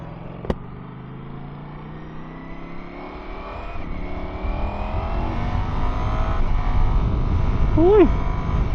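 A 2025 Ducati Panigale motorcycle on a test ride: the engine drones close and steady, its pitch slowly climbing as it accelerates, with a sharp click near the start and a quick chirp near the end.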